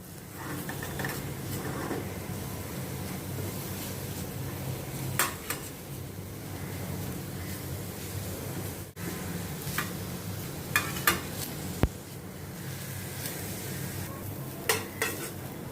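Fresh fenugreek leaves are stirred and dry-roasted in a pan for crispy wheat-flour mathari, a steady close scraping and soft sizzle running throughout with occasional sharper clicks of the spatula against the metal.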